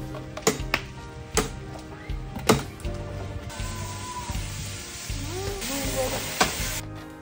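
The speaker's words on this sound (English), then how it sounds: "after boiling our eggplants, we get cooking oil and add our ingredients and mix for some minutes" Eggplants and other ingredients sizzle in cooking oil as they are mixed, with steady frying hiss punctuated by sharp clinks and scrapes of a utensil against the pan.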